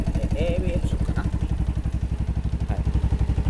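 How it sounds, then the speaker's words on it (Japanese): A Yamaha Majesty 250 scooter with about 36,000 km, freshly changed oil and a new spark plug idles with a steady, even thrumming pulse, close and continuous, with a brief voice over it. "エンジンもね、静かなんですね。"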